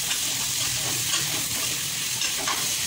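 Fenugreek leaves and toor beans frying in a pan for a methi and toor dana usal, a steady close sizzle with soft stirring scrapes running throughout, no voices.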